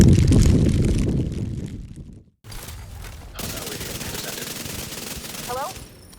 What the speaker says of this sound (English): also known as the minigun